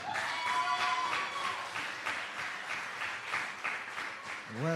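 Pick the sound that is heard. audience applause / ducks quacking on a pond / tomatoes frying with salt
audience applause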